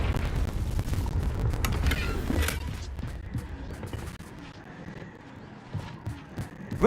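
Confringo fire spell exploding in Hogwarts Legacy: a loud, dense burst of crackling blasts and rumble that slowly fades into scattered smaller pops and debris.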